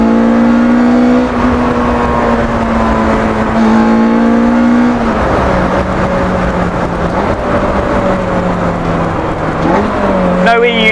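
Lotus S1 sports car with a UK-spec Honda K20a engine revving, a steady loud engine drone rising and falling in pitch over about eleven seconds, close and continuous.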